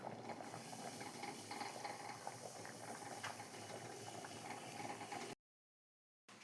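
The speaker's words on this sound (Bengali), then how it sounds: "দেখো ঝোলটা হয়ে গেছে ফুটছে" Chicken kosha curry boils in a pot with a continuous, low bubbling and faint rattling that stays level and quiet, then cuts out briefly near the end, and no one speaks.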